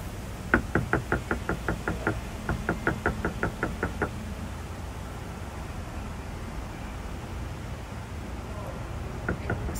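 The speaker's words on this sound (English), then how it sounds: "I'm going to knock on the door." Knuckles rap on a heavy door in two quick runs of about a dozen crisp knocks each, close and loud, followed by a quiet wait with low background hum.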